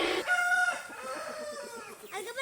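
A neighbour's rooster crows nearby in a rising, drawn-out call lasting about two seconds, with a few clucks from backyard chickens before it.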